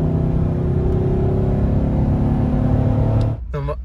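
A work truck's engine idles with an uneven, loping rumble, a steady loud drone that cuts off abruptly near the end.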